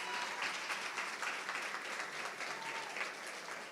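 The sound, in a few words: audience applause at commencement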